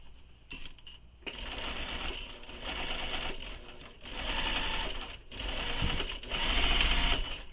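A sewing machine bastes the lining of a bowler bag in several bursts of fast, even stitching, each lasting about a second or two, with short pauses between runs.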